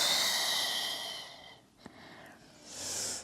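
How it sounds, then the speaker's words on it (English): A long, steady exhale during a Pilates workout, a soft airy breath fading out over a couple of seconds, followed by a quiet pause and the start of a fresh breath. "Exhale."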